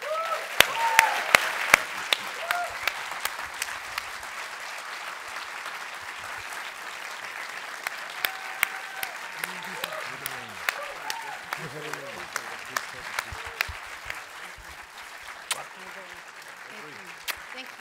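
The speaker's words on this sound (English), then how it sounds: "please give a huge round of applause to Barry Jenkins." Steady applause from a large audience, dense clapping that holds at an even level throughout, with a few louder individual claps and a voice speaking faintly underneath.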